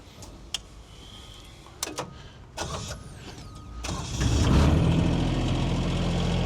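Machine engine cranking and starting with clicks and creaks, then settling into a steady, fairly quiet rumbling idle that grows louder over the last couple of seconds.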